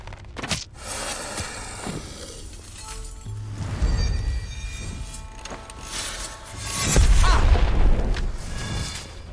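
Combat in the video game Ash of the Gods as a character shoots an enemy: heavy booming impacts and sharp metallic hits over a rumbling low background, with a few stronger blasts spread across the stretch.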